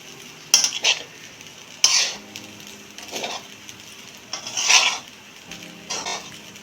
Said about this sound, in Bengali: এখন আস্তে আস্তে একটু নেড়ে চেড়ে এটাকে মিশিয়ে নেব